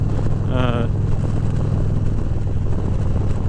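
A 2016 Harley-Davidson Street Glide Special rumbles while riding around Oklahoma, its loud low exhaust drone steady throughout, with a brief whistling tone near the start over heavy wind noise.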